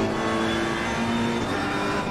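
Ferrari 488 race car in the Assetto Corsa Competizione racing game, a steady loud engine drone with sustained engine tones running through the whole stretch and no talk over it.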